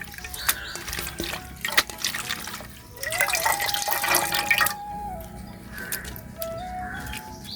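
Running tap water splashes steadily while broad beans are rinsed, the flow rising louder midway then easing into gentle trickles and drips, with faint bird chirps in the background.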